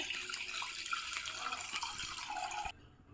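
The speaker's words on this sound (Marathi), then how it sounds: "आपल्याला दूध पातेल्यात ओतून घ्यायचं आहे" Half a litre of milk poured into a cooking pot, a steady close splashing and gurgling stream that runs for under three seconds and then stops abruptly.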